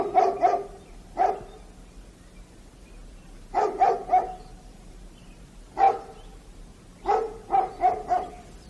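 A Norwegian elkhound barking while working outdoors, sharp barks in short bursts of two to four with pauses between, moderately close and clear, no talk.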